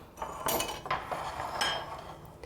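Shredded chicken salad is tossed in a bowl, with a few soft clinks and scrapes of utensils against the dish in short irregular bursts, close up and fairly quiet, without talk.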